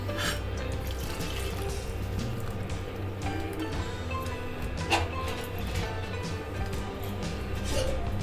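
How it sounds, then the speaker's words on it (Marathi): Two tambe vessels of water pour into a pot of village-style raw tender jackfruit curry, a steady close splashing and trickling stream that keeps going the whole time with no talk. "दोन तांबे पाणी टाकले,"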